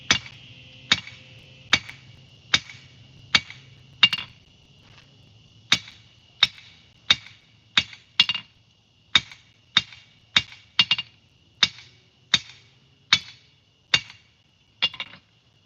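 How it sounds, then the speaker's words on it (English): Hammer blows forging a metal spoon at a forge, about twenty sharp ringing strikes in a steady rhythm with short pauses, loud and close, with a low hum beneath and no talking. "Right now, I am just forging out a spoon because I'm bored."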